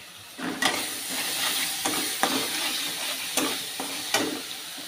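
Fish sizzles as it fries in red masala, a steady close hiss punctuated by several stirring scrapes at irregular intervals.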